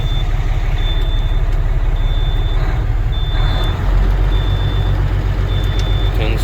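Diesel truck engine idling loudly and steadily at an auction yard, with a deep rumble throughout and a reversing beeper repeating in the background.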